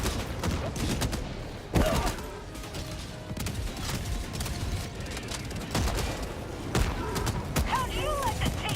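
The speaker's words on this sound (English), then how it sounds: "Throwing grenade" A grenade goes off in the co-op shooter Helldivers 2, a sharp thudding blast rising out of busy, crackling gunfire and combat noise, fairly close, with a second smaller burst later and faint voices in the mix.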